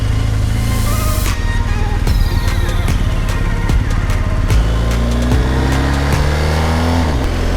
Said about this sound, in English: Riding a big adventure bike in the city is not the ideal situation.